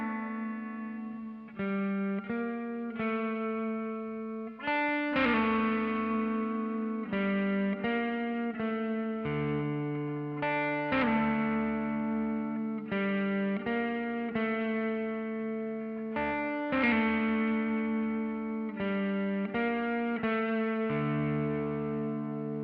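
Electric guitar run through distortion and modulation effects plays the verse part of a song, a steady sequence of sustained, raked chords and notes, loud and close with no talking.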